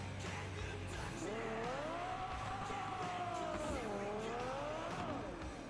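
A futuristic car in the video game Cyberpunk 2077 drives continuously, its engine note rising and falling in long smooth sweeps that suggest revving, with a steady rushing layer beneath and no talking.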